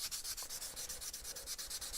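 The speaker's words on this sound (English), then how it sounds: "by sanding this, it wears the lettering just a little" Painted lettering on a sign is sanded by hand in steady back-and-forth strokes, each rasping pass close and distinct, with no voices.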